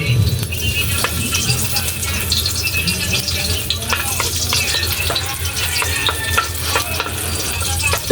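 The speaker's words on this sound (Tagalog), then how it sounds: "gisa po tayo ng bawang" Garlic sizzles steadily in a hot pan as it is sautéed for ginataang tulingan, with scattered clinks and scrapes of stirring over the continuous frying hiss.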